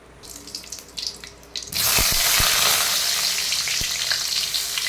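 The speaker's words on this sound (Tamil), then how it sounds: "இது வந்து இப்போ தாளிச்சிக்கலாம் சட்டியில் இப்போ எண்ணெய் ஊற்றிட்டேன்" Hot oil in a pan for tempering, first quiet with faint clatter, then a loud steady sizzle that bursts in and continues to the end, with a few sharp taps against the pan.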